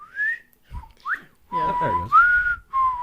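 A person whistles a few short wavering notes and longer held tones, close and clear, between brief bits of speech.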